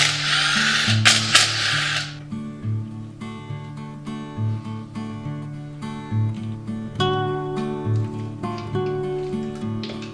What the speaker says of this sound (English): Now I can get these two bolts out here and then pull the front cover off.